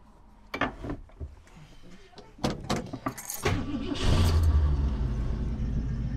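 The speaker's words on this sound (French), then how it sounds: "tu es sur un démarrage à froid" A car engine cold-starts after a few clicks and clunks, cranking briefly, then catching and settling into a steady, loud idle rumble close by.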